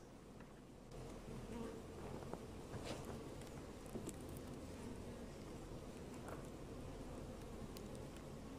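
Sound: bees buzzing

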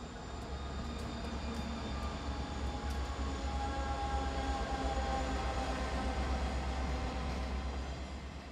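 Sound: diesel freight train passing

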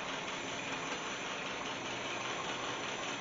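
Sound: Land Rover Series One engine idling

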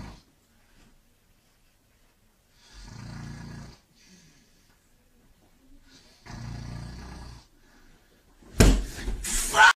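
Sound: person snoring

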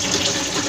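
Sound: water filling a single tub washing machine

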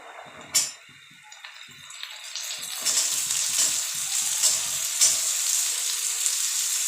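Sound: green peas added to frying vegetables for fried rice

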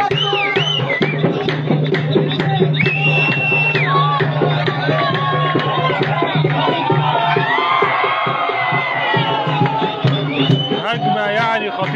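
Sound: football fans chanting and drumming after an equaliser

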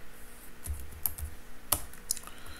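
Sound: typing code on a computer keyboard

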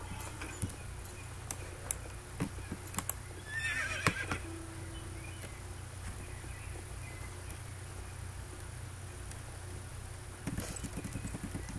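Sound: horse running and neighing in the video game Star Stable

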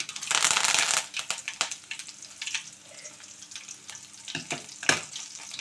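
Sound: dried red chillies, curry leaves and garlic frying in a pan

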